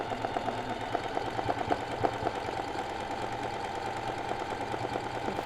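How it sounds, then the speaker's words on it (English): A sewing machine running steadily during free motion embroidery, stitching a wide zigzag. Its fast, even mechanical whir and rapid needle ticking continue throughout at moderate loudness, with no talking. "I'm gonna do a wider zigzag here because I think it's prettier."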